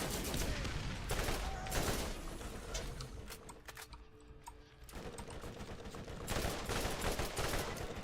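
Rapid automatic assault rifle fire in the video game Borderlands, long bursts of loud, dense shots with a brief lull midway, surrounded by game effects.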